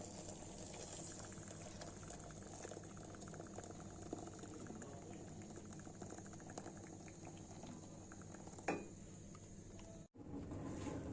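Water boiling in a kettle while tea brews gives a quiet, steady bubbling hiss and rumble that runs on evenly, with a brief break near the end.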